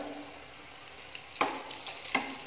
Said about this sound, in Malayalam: നമ്മുടെ ഒരു ഭാഗം നന്നായി ഫ്രൈ ആയിട്ടുണ്ട്.